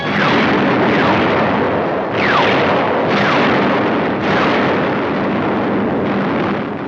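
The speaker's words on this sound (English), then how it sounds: "From the skies, a bombardment to which we had no adequate answer." Aerial bombardment in a 1944 WWII film of the North African air war near Tunis: a loud, continuous roar of explosions and heavy rumbling, with repeated swelling blasts about every two seconds and a whistling descent before each surge.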